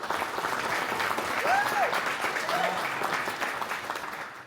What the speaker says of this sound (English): Let's give everybody a final round of applause.